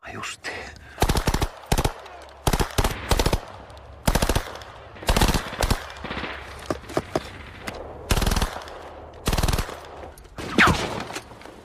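Repeated bursts of automatic gunfire from soldiers in a Finnish–Soviet war battle scene, loud rapid volleys separated by short pauses, with faint background noise between them.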